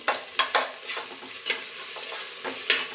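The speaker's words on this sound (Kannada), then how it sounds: "ಈಗ ಸ್ವಲ್ಪ ಶುಂಠಿ ಬೆಳ್ಳುಳ್ಳಿ ಪೇಸ್ಟ್ ಹಾಕ್ತಾ ಇದ್ದೀನಿ." Ginger garlic paste frying in a little oil with browned onions for chicken biryani, heard as a close, steady sizzle broken by regular sharp spatula scrapes against the pan, with no voices.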